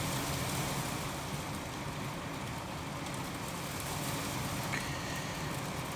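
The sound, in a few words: heavy rain drumming on a bus roof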